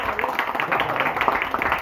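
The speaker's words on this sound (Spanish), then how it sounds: "¡Aplausos para el cumpleañero!" Crowd clapping for a birthday boy at a family celebration, a steady patter of many hands mixed with cheering voices, fairly close and continuous.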